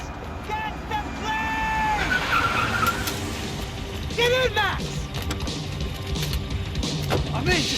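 A car in the video game Max Payne 3 revs and skids, tires squealing in short bursts over steady engine noise, while someone shouts urgently during the chase.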